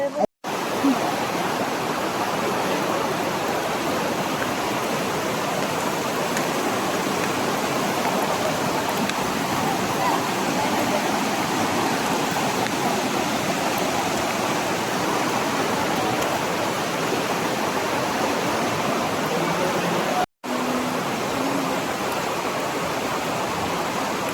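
Water rushes through Clearwater Cave as a constant, loud broadband roar like a waterfall or fast stream, with a few brief dropouts and faint voices now and then beneath the flow.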